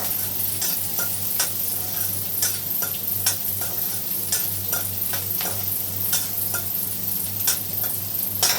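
Ginger, garlic and cumin sizzle steadily in a hot pan, with a constant frying hiss and light ticking of a utensil stirring now and then.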